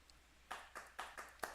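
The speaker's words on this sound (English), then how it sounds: "Oh, you can clap if you want. Hit C." A triggered clapping sound effect on a livestream gives five quick, faint hand claps at a steady pace, each a crisp separate burst.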